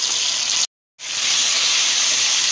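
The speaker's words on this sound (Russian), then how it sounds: "Добавляем 350 грамм кубиками нарезанную куриную грудку." Loud, steady sizzling and hissing of diced chicken breast frying in a hot pan, broken by a brief moment of silence before the sizzle resumes.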